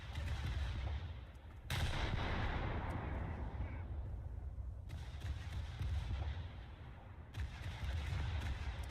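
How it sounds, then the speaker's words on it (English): Heavy naval gunfire from the cruiser Des Moines in War Thunder, three big booming salvos spaced a few seconds apart, each followed by a long rumbling tail, fairly faint overall. "this Des Moines is already shooting at me"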